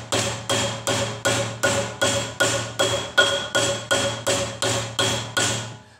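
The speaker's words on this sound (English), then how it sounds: "all I'm doing is just hammering that very edge to straighten it just a little bit and add a little bit of curvature" A rubber hammer strikes the edge of a handmade copper cup held against a pipe, about fourteen steady, evenly spaced blows, each a close, ringing knock with a short metallic decay.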